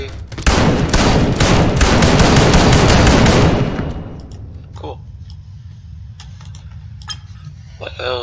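A new gun firing in People Playground, a dense rapid burst of loud, crackling shots for several seconds that cuts off abruptly, followed by scattered metallic clinks and faint clatter.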